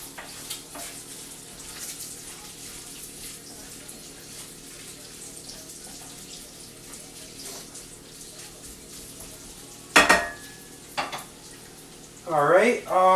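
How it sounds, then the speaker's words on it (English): Bacon frying in a pan, seasoned with pink Himalayan salt, is stirred: a low, steady crackling sizzle with a few sharp clinks, and short vocal sounds near the end. "Stir this bacon really quick."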